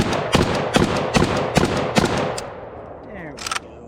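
WBP Mini Jack milled AK47 pistol fired at an outdoor range: five loud, sharp shots at an even pace about every half second, each with a ringing echo, then a quieter pair of cracks near the end.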